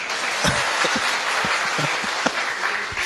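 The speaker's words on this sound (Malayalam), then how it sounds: "ഒരു കയ്യടി റഫീഖിന് കൊടുക്കൂ പ്ലീസ്." A live audience breaks into steady applause, a dense wash of clapping that holds at an even level for about three seconds, with no voices over it.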